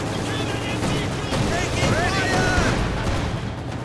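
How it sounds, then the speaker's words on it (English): A field gun fires in the real-time strategy video game Company of Heroes 2, a battle rumble with booms and scattered impacts running under continuous commentary from a caster. "Field gun fires away, misses instead,"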